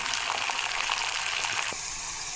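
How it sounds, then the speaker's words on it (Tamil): Garlic sizzling in hot oil for garlic chutney, a steady bright crackling hiss throughout that eases slightly near the end, with no voices. "அதே எண்ணெயில் பூண்டு போட்டுக்கலாம். கொஞ்சம் வதங்கட்டும்."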